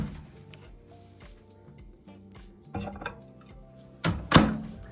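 A microwave oven door shuts in a home kitchen with a short, muffled thunk near the end, after a few soft taps and clinks of handling in an otherwise quiet room.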